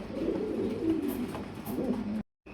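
Pigeons coo at a pigeon sale where Bombay, satin, beauty and koka breeds are on offer: a steady, low murmuring coo runs throughout, close and continuous, with a brief dropout near the end.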